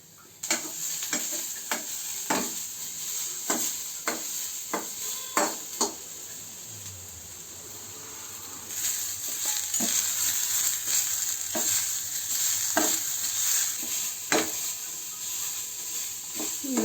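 Tomatoes fry in a pan while being stirred, a steady sizzling hiss broken by repeated sharp scrapes and clinks of a utensil against the pan, close by with no talk.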